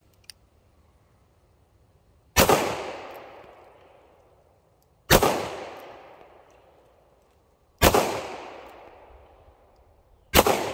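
A Ruger Security Six .357 Magnum revolver fires four loud, widely spaced shots outdoors, each sharp crack followed by a long fading echo, with no voices.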